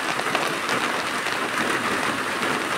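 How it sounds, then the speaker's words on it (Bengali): Heavy monsoon rain pours steadily beside a canal in the rainy season, a dense, even hiss of drops on surfaces with no breaks and no voices. "দেখতে পাচ্ছেন যে বৃষ্টি পড়ছে কেমন"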